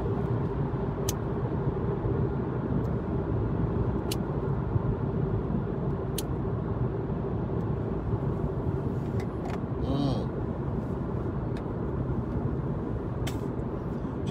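Steady car road noise from inside a vehicle driving outbound at night toward the Fort Pitt Tunnel, a continuous engine and tire hum with a few faint clicks over it.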